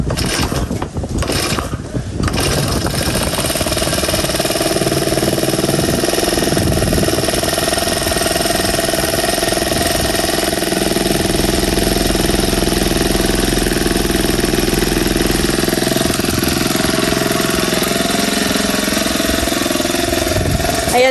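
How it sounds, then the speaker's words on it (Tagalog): A grass cutter engine runs close by, with a loud, continuous mechanical drone and rattling, clattering overtones that hold steady for about twenty seconds. "si Bossing ay mag-grass cutter na"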